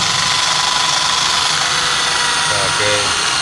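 A power cutting tool trims excess material from a floor drain being installed, a loud continuous high-pitched whine with a steady grinding roar filling the whole short stretch.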